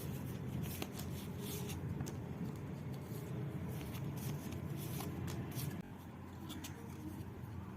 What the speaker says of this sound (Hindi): I will pull 4 cards.